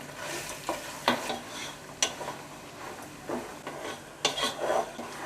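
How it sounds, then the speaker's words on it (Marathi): Oil sizzles steadily as chana dal, garlic and asafoetida sauté for a chiwda tempering, with a utensil stirring and scraping the pan in several sharp clinks and bursts. "आता हे सर्व आपल्याला परतून घ्यायचं आहे"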